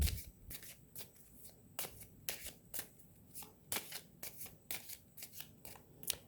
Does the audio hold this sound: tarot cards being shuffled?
yes